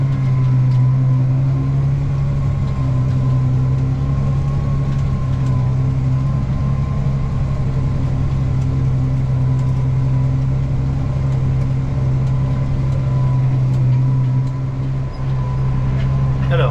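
A tractor engine hauling a stubble cultivator through a rapeseed field holds a steady, loud low drone with a constant hum and no letup, close by, while someone talks over it.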